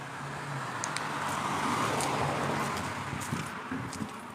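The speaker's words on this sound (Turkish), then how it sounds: "Ee, ana yol. Arabalar geçiyor işte buradan. Bak şimdi bir tane araba daha geçiyor." A car passes on a main road beside where a man sleeps on the street in Southern Cyprus, its steady roadway rumble swelling and fading over a few seconds, fairly close and with no speech.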